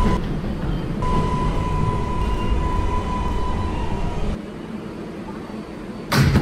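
A Woodlawn-bound R142A New York subway 4 train runs with a steady loud rumble and a sustained high motor whine, which cuts out partway through and leaves a quieter roll before a brief louder burst at the end.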